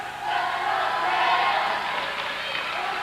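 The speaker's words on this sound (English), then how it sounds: "Crowd getting into it now." A crowd at a 1999 high school basketball game between Salem and John Glenn roars steadily, swelling toward the middle and easing off again, with a voice faintly mixed in.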